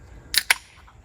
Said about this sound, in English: I'm gonna celebrate by cracking this Oberon.